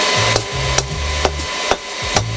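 A hand file works the metal of a forged rebar stamp in four or five rough strokes, each ending in a sharp scrape, over a low, steady background hum.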